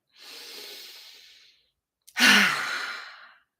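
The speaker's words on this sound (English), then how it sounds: "Okay, and breath in." A long, deep breath is drawn in and then let out as a loud, breathy sigh, close and clear against silence, during a guided EFT tapping session.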